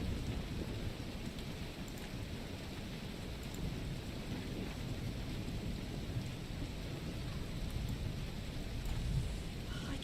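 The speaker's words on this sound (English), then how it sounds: "I upped the amount of times that the thunder would be happening and upped the volume of it a little bit" Steady thunderstorm ambience plays as background for a cozy writing stream: dense, continuous rain with low rolling thunder rumbling throughout, evenly loud for the whole stretch with no talking over it.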